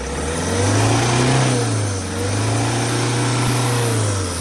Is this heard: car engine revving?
yes